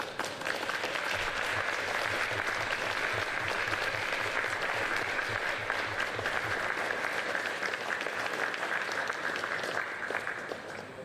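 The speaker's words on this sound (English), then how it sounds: "Big round of applause, please." A crowd at the BMC British Lead Championships climbing competition gives a sustained, dense round of applause for the volunteers, judges and belayers, holding steady for about ten seconds over a low hum before easing off.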